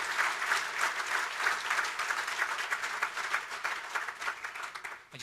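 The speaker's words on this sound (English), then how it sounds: "if it was a small round of applause just for Mr." Audience applause at a football team's 25th anniversary dinner, a full, continuous round of clapping from a crowded room with a gently pulsing rhythm, heard at moderate distance and fading out at the end.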